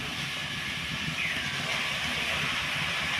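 Potato greens hit a hot wok and give a steady, broad hiss of sizzling that holds evenly throughout, fairly close and with no talking over it.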